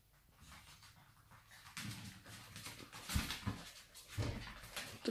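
A Yorkshire terrier pants in quick, close bursts of breathy huffs, starting faint and growing louder, with small snuffles in a quiet room.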